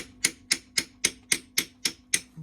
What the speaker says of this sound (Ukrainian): сюди молоточком набиваємо.